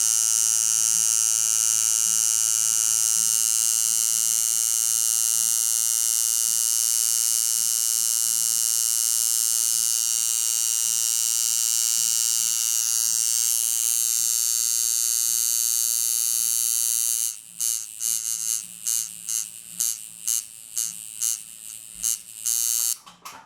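A tattoo machine buzzes continuously at about 4.85 volts, a steady, close electric whine that turns choppy and stuttering near the end as it bogs down.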